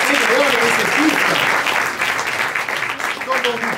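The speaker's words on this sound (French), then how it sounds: "vous pouvez applaudir très fort" Loud, dense applause from a theatre audience at an improv festival show, sustained clapping that fades slightly toward the end, with a voice talking faintly underneath.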